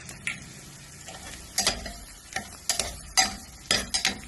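Onions, ginger and garlic frying in a pan for mutton gravy, with a soft sizzle under a run of distinct stirring scrapes and taps. Nearby and moderately loud, in uneven bursts.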